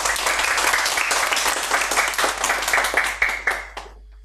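Audience at a children's celebration for the birth of Fatima al-Zahra and Mother's Day applauds a child about to recite a poem, with dense, steady clapping from many hands that thins out and stops abruptly near the end.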